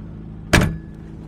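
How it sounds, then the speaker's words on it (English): Car door on an old vehicle parked for 17 years, now on the highway: a single sharp clunk partway through, decaying quickly over a low steady road hum. "Open the door for me, sir."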